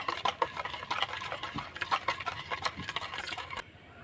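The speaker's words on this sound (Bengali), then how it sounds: "দুধটা দিয়ে আবারও আমি মিশিয়ে নেব।" Quick scraping and tapping of a spoon working through cake batter in a bowl after milk is added, an irregular stirring rhythm close up that stops abruptly near the end.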